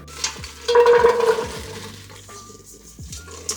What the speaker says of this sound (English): now we have to saute these vegetables until they're tender and golden brown